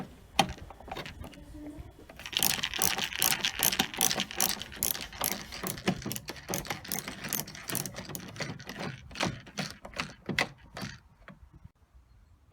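Screwdriver or ratchet clicking as rear light cluster screws are backed out on a VW T5 Transporter, a close series of rapid pawl clicks and small metallic rattles that start after a quiet moment and trail off.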